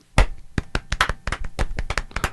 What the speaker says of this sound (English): Ready and golf clap.